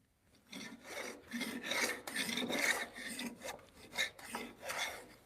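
Hand plane with no chip breaker shaving timber on a timber-frame bunk bed project, a run of repeated raspy strokes in a steady rhythm, close and fairly loud with no talk.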